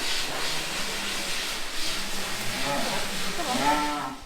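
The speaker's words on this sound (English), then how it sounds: "there are commercial and pedigree cattle here" Commercial and pedigree cattle at a large winter fatstock show in England low and moo in a crowded, echoing hall, several lowing calls rising over a steady hissing wash of background noise.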